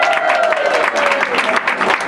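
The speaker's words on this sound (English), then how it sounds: "Let's give a round of applause to Senator Barbara Buono" Audience at a Franklin Democrats meeting applauding Senator Barbara Buono, a short burst of dense, loud clapping from a room full of people.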